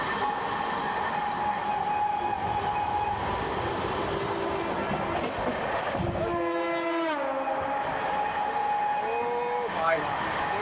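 The Gangasagar Express with LHB coaches runs at speed near Shyamnagar, a steady rolling roar with clatter, a passing horn blast midway and another brief horn near the end, with some talk mixed in.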